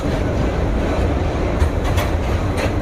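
The Tapti Ganga Express crosses the Ganga bridge with a loud, steady rumble of wheels and carriages, rhythmic clicks over rail joints breaking through the continuous roar.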